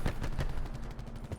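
Nine-bang grenade in Black Ops 4 on Nuketown: a quick rapid string of booming, rumbling bangs, loud and close, packed into a brief moment with no talk over it.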